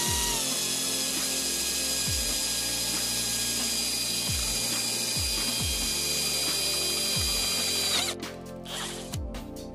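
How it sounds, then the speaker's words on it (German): A Bosch power drill whirs loudly and continuously as it bores into a hard coconut shell, then cuts off abruptly near the end. "standesgemäß werde ich die erstmal mit dem Bosch-Bohrer anbohren und dann Strohhalm rein"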